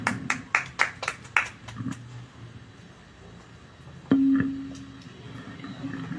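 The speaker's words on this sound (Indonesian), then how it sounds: "Wow, tepuk tangan dulu dong." A short burst of audience applause with several sharp, separate claps fades quickly, followed by quieter room noise and a brief tone.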